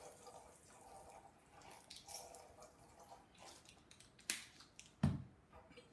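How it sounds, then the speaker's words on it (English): Lemon juice poured into a marinade, a faint thin trickle with a few small drips and splashes close by, ending in a couple of brief louder taps. "I'm gonna also put a little more lemon juice in here."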